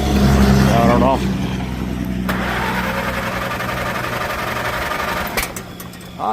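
An old tractor engine cranks and catches at an auction preview yard, then settles into a steady, loud idle with a low rumbling drone; a short clatter and blip come near the end.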